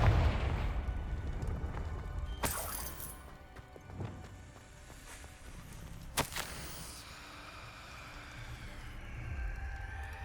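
A Confringo blasting spell in Hogwarts Legacy lets off a few sharp explosive cracks and booms at irregular intervals over low rumbling game ambience.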